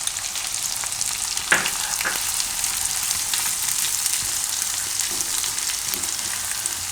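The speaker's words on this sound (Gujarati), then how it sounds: "હવે લીલું લસણ નાખી દેવું." Green garlic fries in hot oil with turmeric, giving a loud, continuous sizzle and crackle with a couple of brief stirring scrapes near the start.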